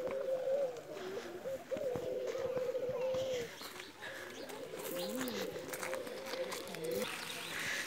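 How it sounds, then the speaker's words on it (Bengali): Pigeons coo softly and repeatedly in a park among the mountains of Oman, faint and somewhat distant, with people talking over the calls. "কবুতর ডাকতেছে"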